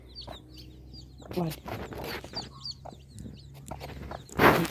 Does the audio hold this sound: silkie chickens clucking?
yes